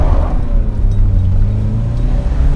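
A Peugeot 205 CTi driving, its engine a steady low rumble with a faint rise in revs, heard from inside the car at close range, with no talking.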